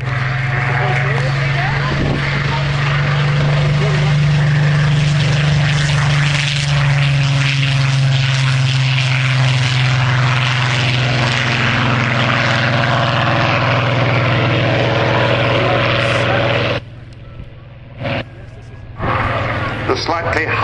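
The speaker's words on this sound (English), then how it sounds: "The slightly harsher sound of the bigger Griffon." A Rolls-Royce Griffon-engined aircraft flies past at an airshow, its deep, harsh engine drone loud and sustained for most of the time before cutting away near the end.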